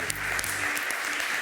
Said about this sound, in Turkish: Hadi güzel bir alkış yapalım ya motivasyon için.